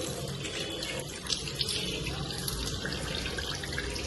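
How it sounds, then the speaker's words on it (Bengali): Water runs steadily from a tap into a sink during face washing, a constant close rushing hiss with no speech over it. "তো ফার্স্টে আমি জল দিয়ে ধুয়ে নিচ্ছি।"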